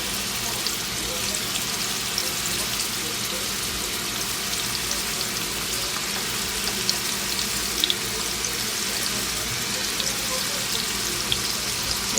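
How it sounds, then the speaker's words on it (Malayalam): Prawns frying in coconut oil for a Kerala-style prawn roast, giving a steady, even sizzle with a faint watery hiss throughout, close and fairly loud, with no talking. "അപ്പോൾ നമുക്കിനി ഈ കൊഞ്ച് ഒന്ന് ഫ്രൈ ചെയ്തെടുക്കാം."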